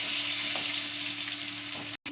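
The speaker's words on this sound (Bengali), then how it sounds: "লবণ দিয়ে একটু ভাজা ভাজা করে নেব" Whole tomatoes with whole spices fry with salt in a home kitchen, a steady close sizzling hiss throughout with a faint low hum beneath, cut by a brief silence just before the end.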